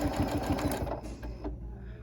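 A Janome Continental M7 sewing machine with a walking foot runs a quick, close burst of rhythmic stitching while applying flange binding, then stops partway through, leaving a low hum.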